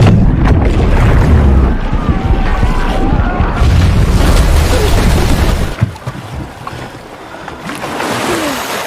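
A loud, rumbling film explosion with heavy low booming that rolls on for several seconds, then settles into debris and quieter rumble.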